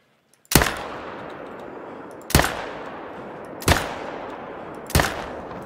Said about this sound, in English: Well, that's not very exciting, but I will shoot it.